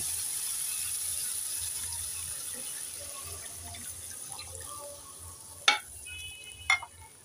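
Puti fish with spices is stirred in hot oil, giving a steady soft sizzle throughout and two sharp scraping knocks near the end.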